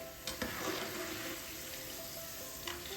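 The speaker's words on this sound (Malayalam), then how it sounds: "നമ്മളെപ്പോഴും ഈ ചക്ക വറുക്കുമ്പോൾ എപ്പോഴും പപ്പടക്കോല കൊണ്ടാണ് ഇളക്കേണ്ടത്" Jackfruit pieces sizzle steadily in hot oil while being stirred with a pappadam stick, a continuous close frying hiss with occasional soft scraping and clinks.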